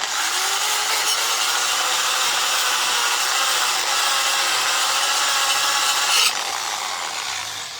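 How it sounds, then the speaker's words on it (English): A wire wheel scrubs steadily over a fresh brazed joint made with a SIP 160A MIG welder, a continuous close, loud abrasive whirring hiss that holds level throughout and eases off near the end. "Quick rub with the wire wheel."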